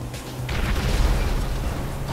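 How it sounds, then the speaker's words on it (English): A sticky bomb goes off in GTA Online with a loud, deep boom that swells after a brief lead-in and rumbles on for the rest of the moment. "throw sticky bombs down to blow them up"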